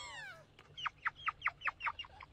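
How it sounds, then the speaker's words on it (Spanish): A quick falling chirp followed by a rapid series of about seven short, high peeping calls, like a small chick, close and clear. "¡Un pollito!"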